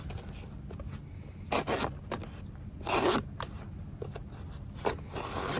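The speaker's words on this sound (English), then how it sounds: "Let's cut up some cardboard." A thin carbon steel knife blade slices through very thin cardboard, giving a few short scraping, crunching strokes in bursts close to the microphone against a low background rumble.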